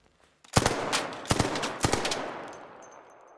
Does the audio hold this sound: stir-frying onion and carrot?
no